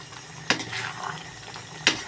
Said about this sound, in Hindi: ये चम्मच चला के मैं आपको दिखा रही हूँ